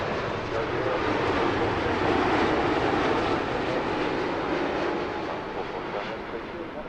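An airliner landing on runway 09 left at Heathrow, a broad steady roar of jet engines close by that swells and then slowly fades, with voices talking over it.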